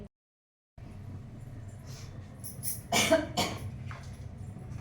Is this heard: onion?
no